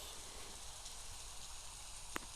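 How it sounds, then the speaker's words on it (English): Steady rain in a video game about cats, a faint, even hiss of falling drops with one brief tick near the end. "It's rain."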